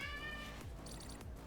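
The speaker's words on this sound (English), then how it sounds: "My cat going crazy." A pet cat meows a few times close by, the cries rising over a steady background hum, with no talking.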